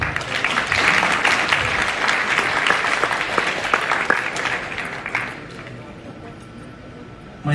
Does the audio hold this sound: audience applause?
yes